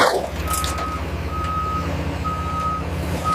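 Truck backing up at a jungle restoration site, its reverse alarm sounding four evenly spaced high beeps over a loud low engine rumble, close by.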